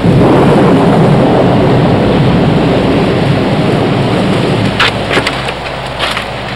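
Steady heavy rain pours down, a loud continuous hiss with a low rumble underneath, with no voices.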